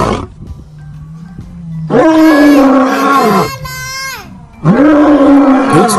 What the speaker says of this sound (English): can you help us make lion sounds with Leonard?